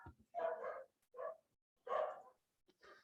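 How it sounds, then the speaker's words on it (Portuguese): A dog barking indoors in a short burst of four or five sharp, mid-pitched barks with brief pauses between them, close and clear with nothing else heard. "meu cachorro deu uma louca aqui"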